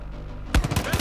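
Gunfire in the video game Far Cry 5: after half a second of low ambient hum, a loud close shot cracks out, followed by several more sharp reports in quick succession.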